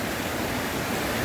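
Rainwater rushing along a newly formed little river in a gutter-like channel, a steady broadband wash of flowing water without pauses, moderately loud and even throughout.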